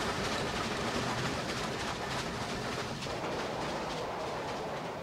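A rapid steam train rushes past in a steady, dense roar with faint clattering, loud and continuous with no voices.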